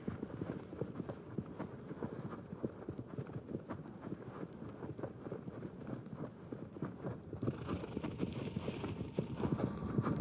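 Horse galloping in the video game Shadow of the Colossus, a continuous fast rhythm of hoofbeats on ground, moderately faint, with a little wind.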